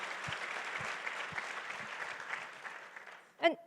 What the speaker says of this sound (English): So a big round of applause for Lisa.